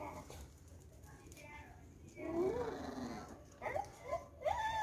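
Puppies playing outdoors in a yard give off thin whimpers and squeaky yelps in short bursts, fairly faint and close, with some chirping in the background.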